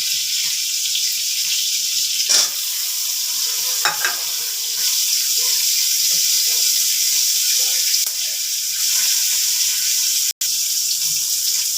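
Chopped onion hitting a hot pan of cucumber soup base with garlic, giving a steady broad frying sizzle throughout, with a few clatters and stirring knocks, close and alone.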